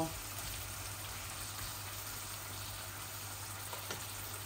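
Spices frying in a pan for a Bangladeshi rohu fish head and potato dish, a faint, steady sizzle that runs evenly throughout with a low hum beneath.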